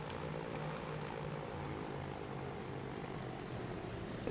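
A propeller airplane engine in the city-building game Transport Fever 2 drones steadily and evenly, a continuous mid-level whir with a faint pulsing throb and no talk over it.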